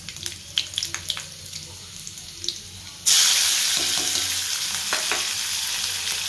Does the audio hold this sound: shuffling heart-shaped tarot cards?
no